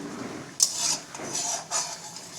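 A spoon scrapes and clatters against a pot while egg curry is stirred, three rasping metallic strokes in a loose rhythm, close and moderately loud, with no talk.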